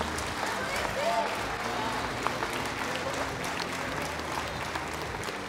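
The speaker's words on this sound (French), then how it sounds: "je vous demande d'applaudir bien fort nos bacheliers" An audience claps steadily and warmly for graduating baccalaureate students at a New Year honours ceremony, a dense wash of applause held throughout.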